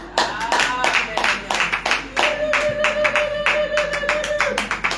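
A congregation at a morning prayer service claps in praise, steady loud rhythmic clapping with voices talking over it.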